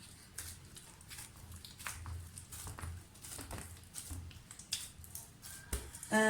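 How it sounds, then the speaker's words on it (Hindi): Wheat flour dough being kneaded by hand with a little added water, giving soft squishing, pressing and slapping sounds in a loose irregular rhythm, fairly quiet and close, with no talk over it. "और एक मरतबा फिर मैं इसको नीट करूँगी।"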